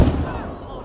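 A festive mortar is fired nearby with one loud, booming blast that rolls off into a fading rumble.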